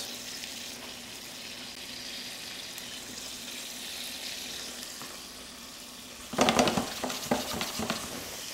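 Pepper steak with vegetables cooking in a pan, a steady close sizzle of frying that grows into louder, busier crackling and stirring near the end.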